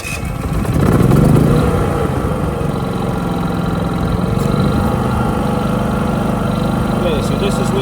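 A portable power generator engine runs with efficiency mode switched off, a steady mid-pitched drone with a slight swell near the start, then holding even and fairly loud throughout.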